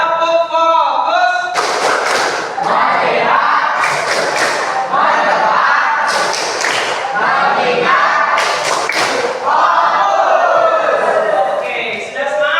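A classroom of students performing a focus clapping chant, rhythmic group claps in bursts mixed with shouted voices, loud and near.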